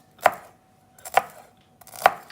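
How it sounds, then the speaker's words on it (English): A knife chops through celery stalks on a cutting board, three sharp, evenly spaced knocks close by in a quiet kitchen, with no talking. "So first you're just gonna get the celery, you're gonna chop it up nice and thin."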